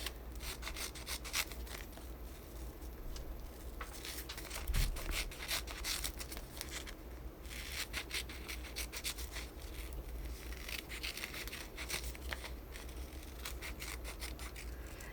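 Steady rough rubbing and scraping while a decal for a Halloween wine glass is trimmed out close, a continuous faint scratchy texture with soft rhythmic strokes throughout.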